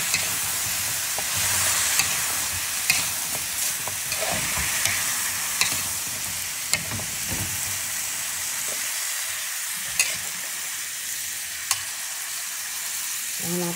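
Vegetables for ginataang sizzle steadily as they are stirred in a frying pan. A constant hiss of frying runs throughout, broken by sharp, irregular utensil scrapes and clicks, with no talking.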